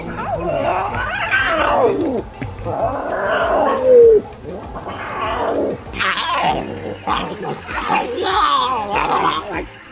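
Lion cubs growl and snarl in repeated rough bursts, close and loud, with short pauses between outbursts, on safari in Botswana.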